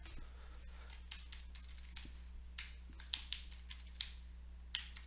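Rapid clicks of a computer keyboard as a folder and file path is typed into a Windows Command Prompt or PowerShell window, the keystrokes close and crisp with short uneven pauses, no talking.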